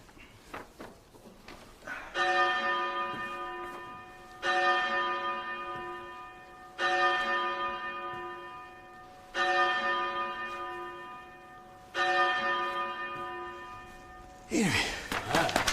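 A large church bell tolls five times at slow, even intervals, each strike ringing out and decaying before the next, with a breathy sound at the end.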